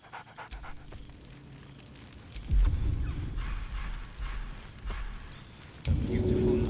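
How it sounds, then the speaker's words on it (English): Scratch, the dog from Baldur's Gate 3, pants rapidly in close, breathy bursts with a few louder yelps. A soft rain-like rumble runs underneath. "Scratch barks merrily in something like agreement."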